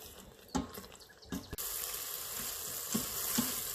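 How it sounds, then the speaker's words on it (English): Tomato puree for aloo kofta shorba fries in oil in a pot, giving a steady close sizzle with a few brief louder bursts of stirring or spattering early on. "We will fry this puree for 5 minutes."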